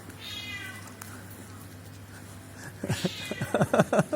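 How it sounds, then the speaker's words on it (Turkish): A cat meows several times in quick succession near the end, loud and close, after a stretch of quiet room noise. "nasıl miyavlıyor duyuyor musunuz?"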